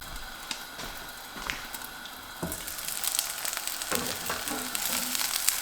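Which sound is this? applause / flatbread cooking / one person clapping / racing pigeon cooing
flatbread cooking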